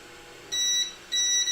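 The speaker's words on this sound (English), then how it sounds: "ooh, some good beeping." Two short electronic beeps from a 3D printer, high-pitched and clean, each lasting about a third of a second with a brief pause between them.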